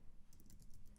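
Quick, faint keystrokes on a computer keyboard while code is entered, a short light patter of taps with no one speaking.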